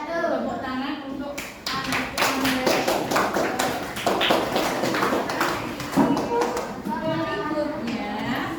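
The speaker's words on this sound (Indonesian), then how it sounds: "Tepuk tangan untuk" A group claps hands in a loud, dense, continuous run lasting several seconds, close by, mixed with children's voices calling out over the clapping.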